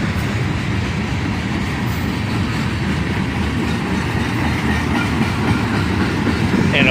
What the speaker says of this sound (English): And a large cut of empty steel slab cars on the end of this train.